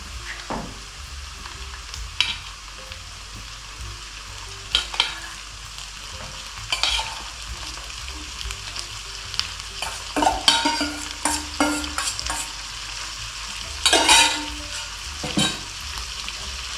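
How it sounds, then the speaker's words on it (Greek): Half a kilo of minced beef sizzles in a pan while a utensil stirs and scrapes it in irregular bursts, the frying hiss steady underneath the louder clattering strokes. "Ανακατεύουμε πολύ καλά να ασπρίσει ο κιμάς μας."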